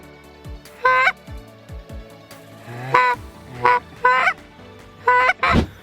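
A goose call mimics content, feeding geese with a run of loud, close honks and clucks in short irregular bursts, some doubled, with soft low clucks between them.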